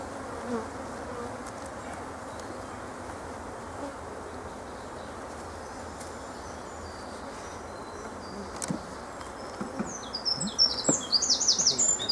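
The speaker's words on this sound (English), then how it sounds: "smoke a lot so that a lot of young bees go under" A dense, steady buzz of many honeybees around a hive fills the air nearby, with occasional louder passes and some bird chirps toward the end.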